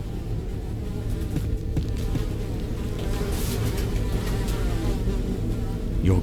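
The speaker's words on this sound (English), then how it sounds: "Despite the buzzing flies, you hear the faintest sound of rushing water" Flies buzz in a foul latrine in the dungeon crawler The Secret of Weepstone, a continuous droning hum over a low rumbling ambience, steady and moderately loud throughout.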